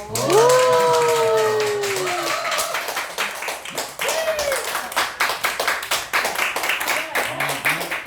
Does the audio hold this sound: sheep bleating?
no